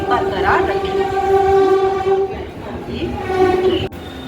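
A train rumbles steadily close by as it pulls into Dum Dum station, with a continuous mechanical hum and tonal whine, and a sharp clack near the end.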